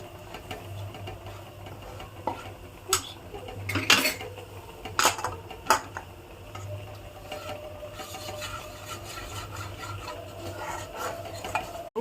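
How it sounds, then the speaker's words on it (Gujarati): Flour roasting in butter in a pan while being stirred for white sauce, giving close scraping and clinking of a spoon against metal in irregular strokes over a faint background hum. "અને આ રીતના બટરમાં થોડોક એવો આ રીતના શેકવાનું તમે જોઈ શકો છો."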